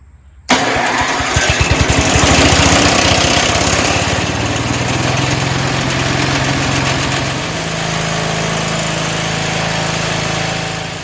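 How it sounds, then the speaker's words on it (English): A small engine cranks on an electric starter for a brief moment, then catches and settles into a loud, steady running drone that keeps going, slightly easing in pitch partway through. "I'm just plugging the electric to the electric start, see if it starts before he comes and picks it up"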